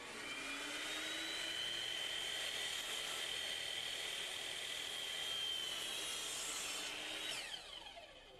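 A wooden stair baluster is cut with a power saw: a steady, loud, high whining cut that runs continuously for about seven seconds before tapering off at the end.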